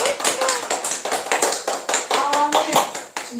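An audience claps at the close of a small talk session, a quick run of sharp, close hand claps layered over overlapping voices.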